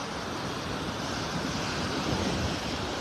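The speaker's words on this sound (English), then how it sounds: "The wind coming right and hitting me right in the face now, coming right from the north." A north wind blows on a Naples, Florida beach, buffeting the microphone in a steady roar mixed with surf wash, loud and continuous with no talking.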